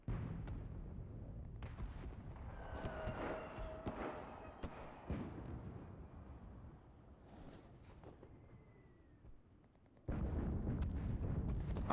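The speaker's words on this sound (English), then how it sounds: "I'm gonna hope that any of my mortar shells have landed." Mortar shells land in the WWII shooter Enlisted, a run of booming explosions and gunfire of varying loudness that eases off, then gives way to a sudden loud roar near the end.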